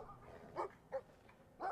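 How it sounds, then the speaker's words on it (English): Three short barks from an angry dog in the video game Brothers: A Tale of Two Sons, spaced apart and moderately loud over a low game background, with no talk. "we have a very angry dog that's trying to attack the brothers"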